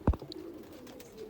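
A pet pigeon, one of a favourite pair, gives a single short, low coo up close, followed by quiet surroundings.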